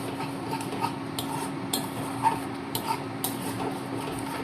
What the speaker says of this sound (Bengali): এইভাবে ঢাকা দিয়ে দিয়ে সমানে নাড়তে থাকছি